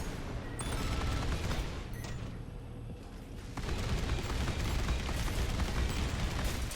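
A new gun in Armored Core VI fires dense, rapid bursts that sound like a heavy fusillade. The volleys are loud and rumbling, break off briefly in the middle, then start again.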